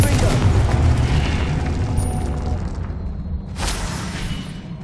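A Confringo spell blast in the wizarding game Hogwarts Legacy bursts with a heavy, rumbling boom that slowly fades, followed by a sharper crackling flare near the end.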